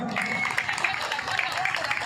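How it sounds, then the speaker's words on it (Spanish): An audience at an Inti Raymi festival in Cúcuta claps steadily for prize winners, a short spell of moderate applause with faint crowd voices underneath. "bueno, un fuerte aplauso"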